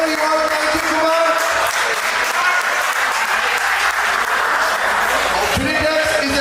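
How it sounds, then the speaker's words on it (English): Sustained applause from a crowd at a live charity auction, thanking the title sponsor, steady clapping throughout with a brief voice near the end. "Give a good round of applause to Trinitex."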